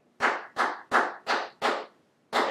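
Five crisp hand claps in a steady, even rhythm, then a short pause before a sixth clap, close and alone, tapping out the rhythm of a children's song.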